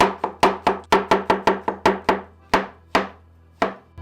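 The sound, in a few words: knife chopping champignon mushrooms into slices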